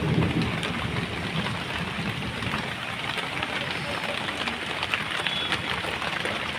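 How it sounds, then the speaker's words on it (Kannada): Heavy rain pours down steadily outside a home, a dense continuous hiss that stays loud and unbroken from start to finish. "ಮಳೆ ಬರ್ತಿದೆ, ಸಿಕ್ಕಾಪಟ್ಟೆ ಜೋರು ಮಳೆ ಇದೆ."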